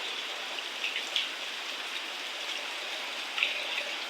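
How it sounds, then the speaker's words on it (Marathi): Heavy cloudburst rain falling steadily, a dense even hiss with a few louder drops splashing nearby. "एवढे पण भांडे फुल भरून जाणार इतका जोरदार पाऊस आहे"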